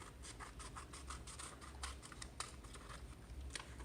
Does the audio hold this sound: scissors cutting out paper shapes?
yes